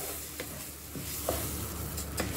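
Rice stirred and sautéed in a pan with its seasoning mix, a steady low sizzle with scattered scraping clicks of the spoon against the pan, close and alone.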